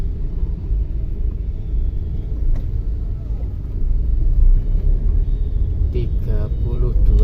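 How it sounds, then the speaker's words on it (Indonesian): A Pertamina fuel tanker truck passes on a road in northern Jombang, its engine making a heavy low rumble that swells toward the end over steady traffic noise, with someone talking throughout. "Nah, ini ada truk tangki Pertamina."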